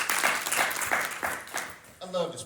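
Short burst of clapping from an audience at an insurance agency talk, a few rhythmic claps fading over two seconds before a voice resumes speaking.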